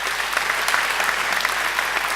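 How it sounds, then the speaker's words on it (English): Graduation ceremony audience giving a sustained round of applause, a dense, even wash of many hands clapping from a large crowd filling the hall, steady throughout with no voices standing out. "So I think they deserve a great round of applause too."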